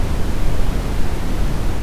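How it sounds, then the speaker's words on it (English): Brown noise rumbles as a deep, loud, steady roar weighted toward the lows, like distant surf or a waterfall, continuous with slight fluctuations and no voices. "And this is brown noise."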